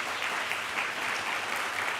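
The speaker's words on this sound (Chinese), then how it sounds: "来我们鼓掌欢迎" Church congregation at a Mandarin-language Sunday service applauding to welcome a newcomer, a dense, even wash of many hands clapping steadily throughout, close and full.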